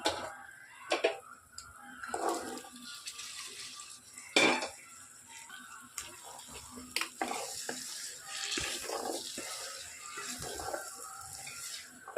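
Potato masala with boiled chickpeas being stirred and fried in a pan, with irregular clinks and scrapes of a utensil against the metal over a soft sizzle, loud at first and then continuing more steadily.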